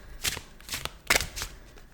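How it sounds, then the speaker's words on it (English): Tarot cards being shuffled by hand in short riffling bursts, four quick crisp rustles spaced about half a second apart, close and fairly quiet with no talking. "let's go to the tarot cards and have a quick shuffle"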